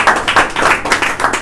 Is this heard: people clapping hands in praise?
yes